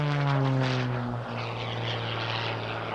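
An aerobatic propeller airplane flying at an airshow in Geneseo, New York, its engine drone loud and steady with a pitch that slides down as it passes, heard alone without talk.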